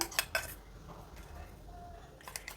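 Powdered peanut, roasted gram and dry coconut tipped onto a plate in a home kitchen, giving a couple of quick metallic clinks and scrapes up front, then a faint rustle.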